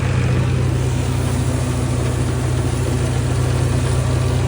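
A tractor engine runs at full revs to drive a reaper harvesting wheat, heard as a loud, steady, close diesel drone with an even low throb and no talk.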